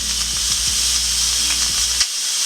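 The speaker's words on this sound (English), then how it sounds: "So we're gonna go ahead and release the steam in the pressure cooker." A pressure cooker vents steam after cooking a white chicken chili, giving a steady, loud broadband hiss that runs almost unbroken, with faint low knocks beneath it, then drops off near the end.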